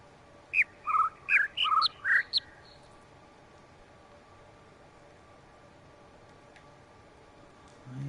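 Bird song in the video game The Witness: a quick run of about six clear, whistled two-note chirps alternating high and low, fairly close and alone over a soft hiss, then quiet.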